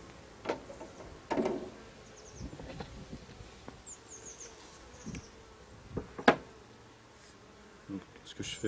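A few honeybees remaining in a summer honey super at harvest buzz faintly and continuously, with occasional sharp knocks and handling noises close by and no talking.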